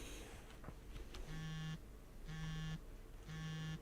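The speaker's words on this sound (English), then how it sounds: "Just then the cell phone in my pocket started to buzz." A cell phone in a pocket buzzes in three evenly spaced vibrating pulses, each about half a second long, close and fairly loud over a quiet background.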